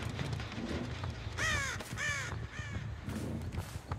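A crow caws several times in a row in the video game Dead by Daylight, clear and fairly near, with quieter ambient sounds between the calls.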